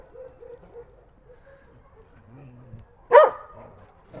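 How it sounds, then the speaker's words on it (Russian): Dogs at an animal shelter, a few faint distant barks and whimpers, then one sharp loud bark near the end, with quiet talk in between. "Вообще в приюте 3000 собак."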